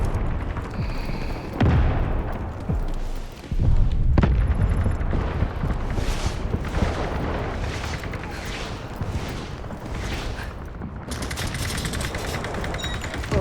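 Artillery barrage in the Delta Force video game: repeated heavy booms and blasts land one after another with rattling gunfire between them, loud and dense throughout.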